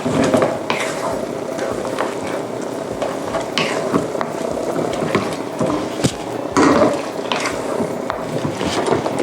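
A spoon stirring black squid ink risotto in a pan, with repeated scraping strokes and soft sizzling as the rice is worked, close and steady, punctuated by sharper clinks against the pan.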